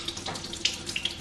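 Water poured onto potted plants splashes and trickles in a continuous stream with small irregular bright spatters, close and moderately loud, with no talk.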